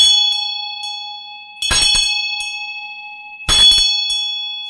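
A 7-inch metal bell, ringed with mantras and the eight auspicious symbols, already rings at the start and is struck twice more, each hit a bright clang followed by a long, clear, resonant hum.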